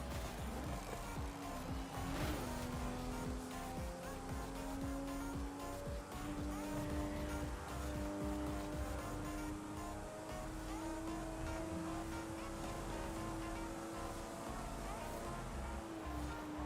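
A car engine in the Forza Horizon 5 racing game drones loud and steady for the whole stretch, its pitch climbing and dipping slowly with throttle, a continuous in-game motor roar with no voices over it.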